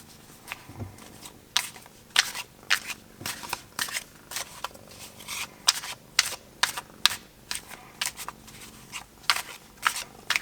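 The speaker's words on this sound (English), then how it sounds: "I love shuffling old decks." An old James Bond 007 tarot deck is riffle shuffled at close range, producing repeated crisp riffling bursts and soft taps, evenly paced and fairly quiet, with no talking.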